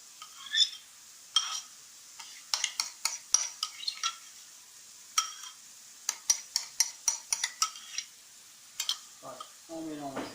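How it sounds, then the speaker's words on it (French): A spoon or utensil scrapes and clinks against a bowl or pan in a run of short, irregular strokes as tomato sauce is stirred into meat for a homemade pizza topping, close up and alone. "Voilà, on mélange le tout."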